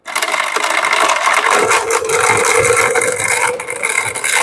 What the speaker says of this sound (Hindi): पानी शामिल करके इसको भी हम ब्लेंड कर लेंगे।